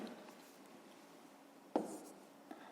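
Pen or pencil writing numbers by hand on paper during a grade 5 maths exercise, a soft continuous scratching with a sharper tap near the middle and another faint one toward the end, close and quiet.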